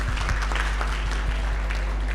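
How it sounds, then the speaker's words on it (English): A season finale audience applauds a contestant, steady clapping filling the room with a low hum underneath and no talk over it. "A round of applause for Florence."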